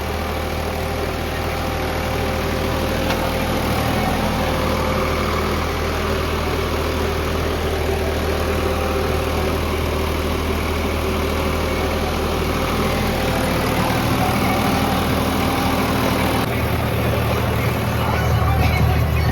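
A Preet 955 tractor engine idles loudly and steadily close by, a constant deep rumbling drone with vibration that continues unbroken throughout.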